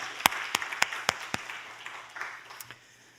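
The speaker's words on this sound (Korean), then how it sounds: "하나님께 영광의 박수 한번 올려드리겠습니다." A small church congregation claps during a Sunday afternoon service: a handful of sharp, distinct claps in a loose rhythm, then softer scattered clapping that fades away against a quiet room hum.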